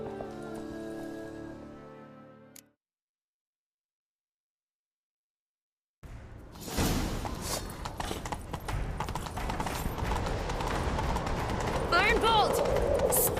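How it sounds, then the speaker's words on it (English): Horse hooves pounding in The Witcher 3: Wild Hunt. The clip opens with a short musical or voiced passage, then a gap of silence, followed by a loud, continuous rhythmic clatter of galloping that builds toward the end. "Grab a horse, we'll chase him down."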